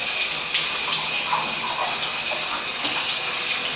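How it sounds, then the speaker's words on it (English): Hot water runs steadily from a bathroom tap, a continuous close hissing gush that holds at an even level throughout with no voices. "So we'll check the hot water pressure."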